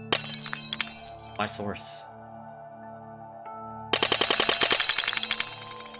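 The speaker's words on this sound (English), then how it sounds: "Like the rapid glass shatters." Rapid bursts of glass shattering from the Danganronpa Another video game: a loud cluster of crashes early on, then a dense, continuous run of fast breaking hits, with a man's brief remark over it.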